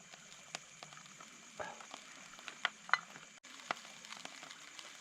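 Chopped onion frying with dark soy sauce in a pan at a cold night campsite, soft crackling sizzle with scattered pops and stirring clicks, fairly faint and close.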